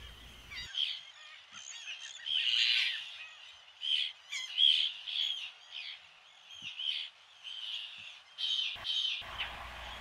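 Laughing gulls call repeatedly over a background of many distant birds at a nesting colony, harsh squawks and laughing cries overlapping in a busy, continuous colony chorus.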